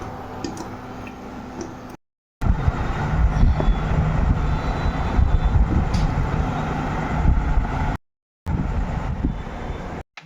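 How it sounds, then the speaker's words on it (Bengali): Mango pulp for mango leather boils under a plate-covered pan on a stove, giving a dense, steady bubbling rumble with small ticks and rattles, broken by two brief silent gaps. "দেখো কিভাবে ফুটছে, থালা ঢাকা দিয়ে বাবা।"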